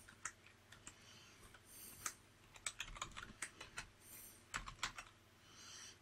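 Computer keyboard typing close to a microphone, bursts of crisp key clicks and taps with brief pauses, fairly quiet and with no talk.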